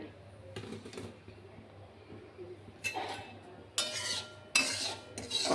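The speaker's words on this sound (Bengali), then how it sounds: "এই 3 থেকে 4 মিনিট এটা আমি সুজিটা নেব একটু ভেজে" Semolina is stirred as it roasts in a pan, with scraping spoon strokes that grow louder toward the end. The strokes come in separate bursts, close and fairly quiet, with a voice talking under them.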